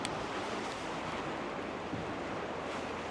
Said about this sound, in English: Got some water rushing under here.